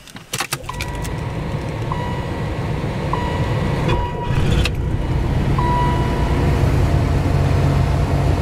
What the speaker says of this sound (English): But let's start her up.